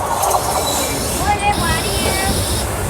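A passenger train rolls along the rails on the route between Patna and Rajgir, a continuous close rumble with rattling carriages and high metallic wheel squeals running over it.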